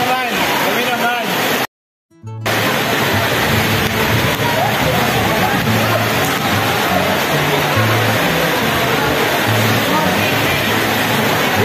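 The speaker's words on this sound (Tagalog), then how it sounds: "Lakas ng ulan! Lakas ng ulan!" Heavy rain pours in a steady broadband roar over an outdoor midget basketball game during a storm, with a brief drop-out near two seconds, while excited players and spectators shout throughout.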